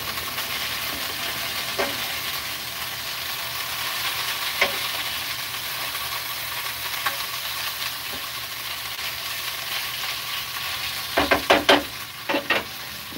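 Potatoes frying in grease, cooked in a truck camper kitchen, give a steady soft sizzle and hiss, broken by occasional scrapes and a cluster of sharper clatters from stirring near the end.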